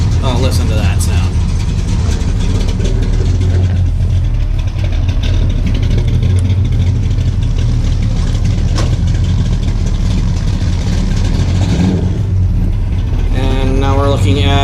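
A 1974 Dodge Charger SE idles loudly at a football-themed car show, its deep, steady engine rumble running throughout while people talk nearby and other outdoor noise mixes in.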